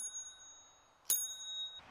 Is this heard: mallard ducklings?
no